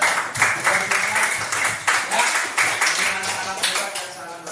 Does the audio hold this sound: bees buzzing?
no